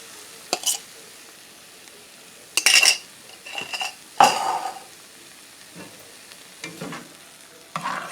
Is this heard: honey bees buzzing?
no